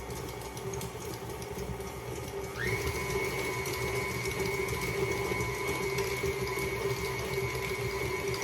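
A KitchenAid blender mixes a smoothie with almond milk, running as a steady loud whirring drone whose pitch jumps up partway through and holds, with no voices.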